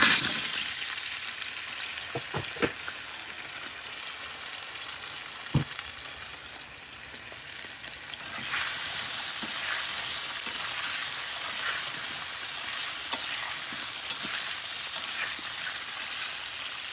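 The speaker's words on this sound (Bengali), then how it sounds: "এখন আমি এই যে আলুটা দেখছি ভেজে নেব।" Potatoes fry in hot oil with black cumin and cumin seeds, a continuous crackling sizzle with scattered sharp pops and a few utensil knocks. The hiss grows brighter and louder partway through.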